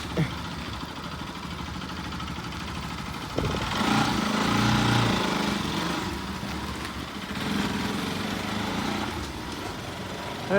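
A Bajaj Pulsar RS200 motorcycle engine running at idle with a steady buzzing rattle, rising briefly in a couple of throttle swells as it pulls away, near and fairly loud.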